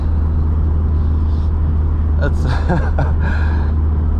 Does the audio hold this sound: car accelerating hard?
yes